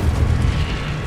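The Incendio fire spell cast in the Hogwarts Legacy video game, a short loud booming burst of flame with a dense low roar.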